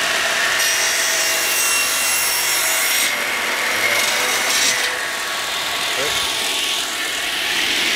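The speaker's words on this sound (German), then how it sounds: "hältst du hier fest und schneidest einfach mal diesen Ast hier weg" A wooden branch being cut off with a saw, giving a continuous loud rasping scrape with slight changes in stroke, close to the microphone.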